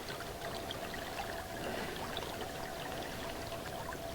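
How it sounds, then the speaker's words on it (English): River water flows steadily at a fishing spot on the River Eden, a continuous close rushing and trickling wash that stays even in level throughout, with a faint steady tone running underneath. "Sound of flowing water"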